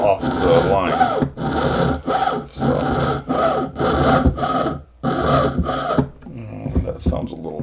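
Frame saw with a slightly bent frame cutting wood along a marked line, steady rhythmic back-and-forth rasping strokes, close and loud, ending in a few lighter scraping strokes.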